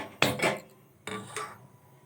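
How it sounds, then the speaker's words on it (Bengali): A metal wok (kadai) set down on a gas stove, two distinct clanking knocks about a second apart, close and crisp in an otherwise quiet kitchen. "কড়াই বসিয়ে দিলাম।"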